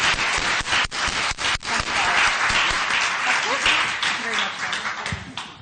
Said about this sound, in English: I think a round of applause is really deserved